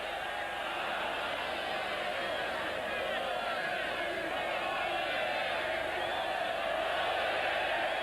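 Stadium crowd at a 1991 Copa América first-round football match between Argentina and Venezuela, a steady broad roar of cheering and shouting that holds at an even level throughout with no break.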